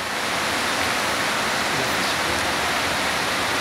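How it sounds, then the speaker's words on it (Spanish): Heavy springtime downpour over the city of Santiago, Chile: a loud, dense, unbroken hiss of rain falling on surfaces, steady from start to finish with no voices. "Espectacular lluvia."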